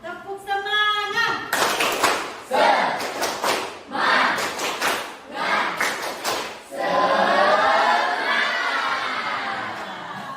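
Students in a classroom perform rhythmic 'tepuk semangat' spirit clapping, loud bursts of patterned claps and group chanting that end in a sustained cheer.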